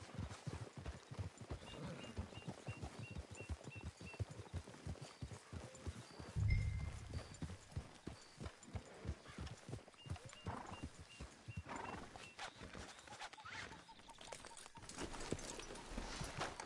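Horse hooves clip-clop steadily on the ground in the Red Dead Redemption 2 video game, a continuous quick rhythm of faint, close-sounding hoofbeats with a brief louder thump partway through and no talking.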